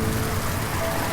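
Steady heavy rain pouring down outside a house during a storm, a dense continuous hiss that is loud and close, with no voices.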